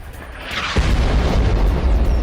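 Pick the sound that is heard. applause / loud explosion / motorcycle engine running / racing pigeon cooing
loud explosion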